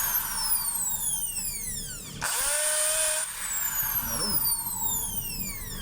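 A DeWalt DWD024 half-inch drill with a damaged cord runs in hammer mode, giving a steady loud mechanical whir with a brief pitch change midway as the motor shifts speed, no voices over it.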